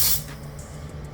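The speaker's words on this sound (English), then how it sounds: "I currently have it set to spray at 25 psi out of the gun." Paint spray gun set to 25 psi laying down candy paint, a steady broadband hiss that starts loud in a short burst then settles into a continuous, even airy spray close by.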